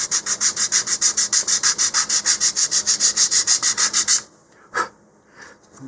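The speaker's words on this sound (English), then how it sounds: "just going over the same area that I've rounded, but with the finer sandpaper" Fine sandpaper rubs over a rounded balsa wood fin on an Apogee Research Express model rocket in quick, steady back-and-forth strokes, about two dozen close scratchy passes. It stops abruptly, followed by one brief soft knock and quiet.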